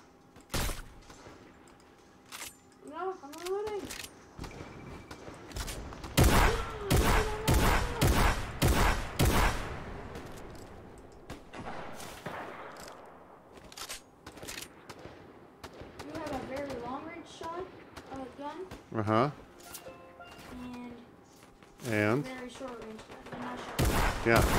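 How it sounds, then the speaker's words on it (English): Gunfire in the video game Fortnite comes in sharp, rapid bursts and single cracks of varying loudness, with someone talking between and over the shots. "Why are you shooting at me?"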